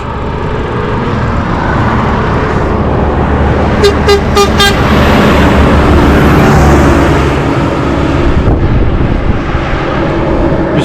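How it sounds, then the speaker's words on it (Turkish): Car horns from passing traffic on a road in Iran, heard by a cyclist on a climb: a few short beeps ring out in quick succession through continuous loud road and wind noise. "Sürekli geçen arabalar kornaya basıyorlar."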